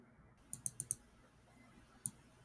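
A computer mouse double-clicks, quiet sharp clicks in a quick cluster of four, then a lone click a moment later, against a near-silent background.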